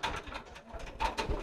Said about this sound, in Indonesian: Saya mau tes merpati saya